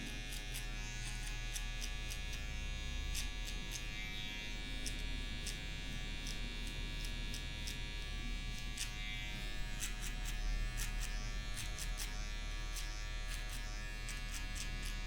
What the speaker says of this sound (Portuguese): E com a própria máquina de acabamento, a gente vai vir tirando essa marcação